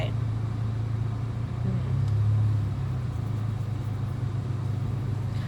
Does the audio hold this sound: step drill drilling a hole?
no